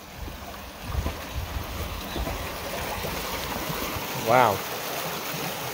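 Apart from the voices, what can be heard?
rushing water of a stream at a frozen lakeside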